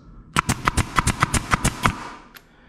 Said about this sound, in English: Regardless of the nail gun or the fastener gun that you're using, it should not sound like an automatic weapon when we are using it.